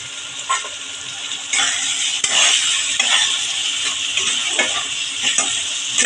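Prawns and fried potatoes are stir-fried in a pan for a papaya and prawn ghonto, with a steady sizzle, a spatula scraping and clinking against the pan, and occasional louder stirring strokes.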